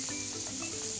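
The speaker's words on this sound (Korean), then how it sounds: "베이컨이 익으면서 서로 이제 분리가 돼요" Bacon frying in a pan with butter, a continuous bright sizzle and hiss with faint crackles, close and steady throughout.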